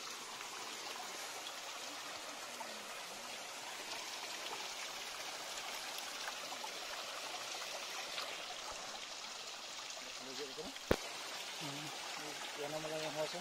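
A clear stream flowing beside a house, a steady broadband wash of running water with people's voices faintly in the background near the end.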